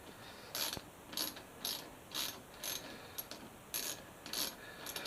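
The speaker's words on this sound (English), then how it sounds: "I may need the ratchet. I just don't want to mess up the threads. Come on, ratchet." Ratchet clicking as it turns a bolt on a Suzuki GSX-S 1000F motorcycle, working in short bursts of rapid pawl clicks separated by brief pauses, close and clear.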